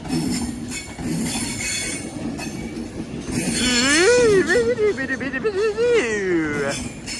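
An Avanti West Coast class 390 Pendolino electric train passes on the main line, a steady rolling roar that swells midway and carries rising and falling wheel squeal toward the end.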